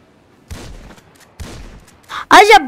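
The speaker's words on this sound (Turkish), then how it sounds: "Acaba bu arada silahla bununla vuruyorsunuz." Gunfire in GTA 5: two short dull bursts of shots about a second apart, then a louder, sharper cluster of blasts at the end, close and punchy with quiet gaps between.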